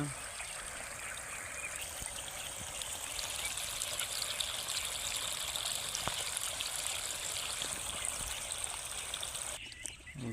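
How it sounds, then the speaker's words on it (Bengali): Water pours steadily down a small outdoor waterfall stream, a constant close rushing trickle that fills the whole stretch, with faint birds somewhere behind it. "এখানে পানির ঝর্ণা, এই ঝর্ণা দিয়া পানি যাচ্ছে"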